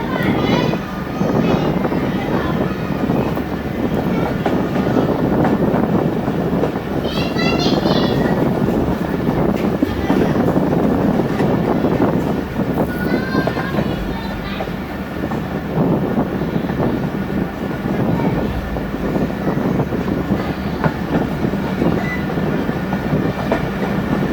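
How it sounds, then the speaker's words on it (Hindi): The Khyber Mail train rolls slowly into Sahiwal railway station, heard from on board as a continuous loud rumble of wheels and carriage noise with faint clicks and squeals, a brief chirping sound, and someone speaking over it. "यहाँ पे train Aahista Aahista railway station पे एंटर हो रही है।"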